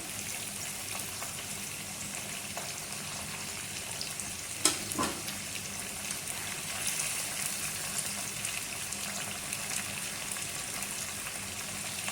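Fried chicken sizzles steadily in hot ghee, a continuous close crackle and hiss with one brief clatter partway through, no voices.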